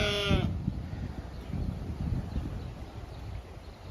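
A single sheep bleats briefly up close on an off-grid homestead, followed by low shuffling and rustling livestock noise in the pen.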